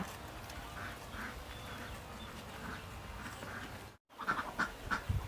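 Domestic ducks kept on a Thai farm quack in a steady, moderately near chorus of repeated calls, with a brief drop in sound partway through and sharper, nearer quacks afterward.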